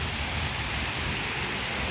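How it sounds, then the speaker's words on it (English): Rain falls steadily at Cascades Nature Park in Compostela, Cebu, making a dense, even hiss with a low rumble beneath it. No voices are heard. "So it's raining over here"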